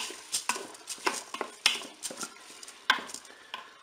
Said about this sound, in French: On va mettre le riz.